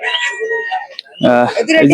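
A desi rooster at Uthura Bazar, a village poultry market in Bhaluka, Mymensingh, crows once, close and loud, in a single short burst, with a person speaking just before it.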